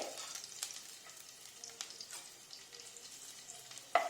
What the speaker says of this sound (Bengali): এবার যে তেলটুকু থাকলো তার মধ্যেই যে রসুন কুচি করে রেখেছিলাম, ওই রসুন কুচি দিয়ে